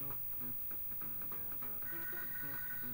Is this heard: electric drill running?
no